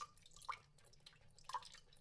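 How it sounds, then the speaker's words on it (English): Slow single drops of water falling from a ceiling onto the floor, two distinct plinks about a second apart, close and quiet over a faint hushed background. "Water falling from the ceiling to the floor, one drop at a time"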